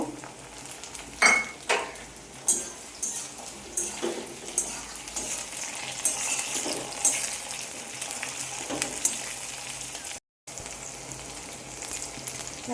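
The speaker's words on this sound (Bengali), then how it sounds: "টমেটোটা একটু ভেজে নেব।" Chopped tomatoes sizzle in a hot pan while a utensil scrapes and stirs several times, producing soft clinks and a brief pause near the end.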